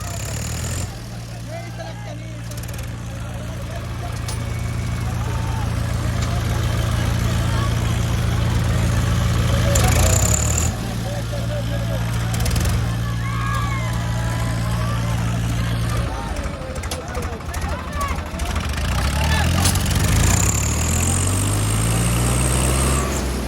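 A Swaraj tractor engine rumbles heavily nearby, its low drone swelling as it revs up in several pushes, with people talking over it throughout.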